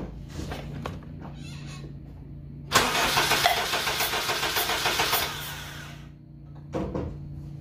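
A 1.8-liter eighth-generation Honda Civic engine cranks over on the starter during a cylinder compression test. A steady rhythmic chugging run of about a dozen compression pulses lasts a couple of seconds, close and loud, with a short burst of cranking after it.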